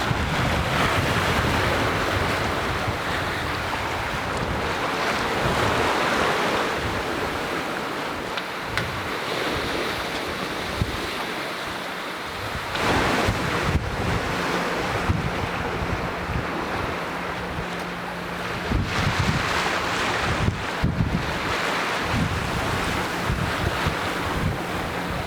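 Wind and ocean waves surround a sailboat at sea on a gray day, with a steady broadband rush of gusts and surf and low hull and water thumps running continuously for the whole stretch, and no voices.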